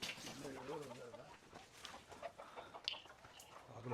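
Black chickens cluck faintly outdoors at a farm, with short soft calls scattered over steady background noise.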